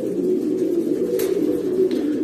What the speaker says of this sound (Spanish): Este palomo es el toro, hijo de la Lola con el toro